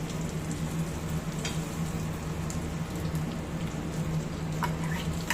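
Ginger garlic paste and ground masala fry in hot oil for an egg pepper masala curry, giving a steady, even sizzle that crackles continuously at moderate loudness without pause.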